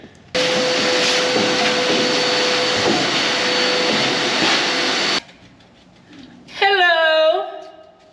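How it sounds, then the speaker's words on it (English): A loud vacuum cleaner roars steadily for about five seconds, cuts off, then a brief whirring rise follows with a hissy motor tone. "we're gonna vacuum all this stuff out"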